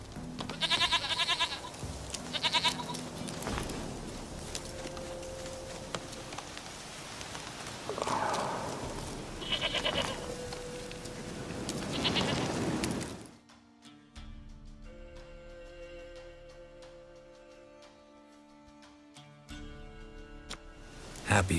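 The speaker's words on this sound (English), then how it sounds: "Goat of mine, dearest, sweetest goat." Goat bleats from the video game The Witcher 3, several short calls over a busy background of hooves and ambience, then a quieter stretch with soft tonal ambience and no speech.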